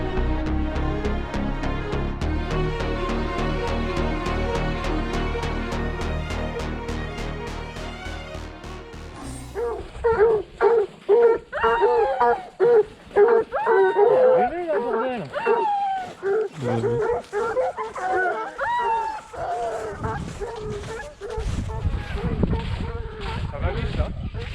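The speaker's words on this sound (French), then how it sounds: "les chiens sont lâchés, les chiens donnent sur le pied apparemment." A pack of hunting dogs on a wild boar hunt in snow bays and yelps in overlapping bursts after a stretch of steady tones, loud and close, with voices talking over them.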